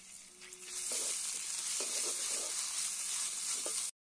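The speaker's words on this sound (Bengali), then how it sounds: "এখানে একসাথে আদা আর রসুন বেটে নিয়েছি, এখন এটা দিয়ে দিব।" Ginger and garlic paste hits hot oil with onions and spices for a jackfruit curry, setting off a steady close sizzle with a few stirring taps, then cutting off abruptly.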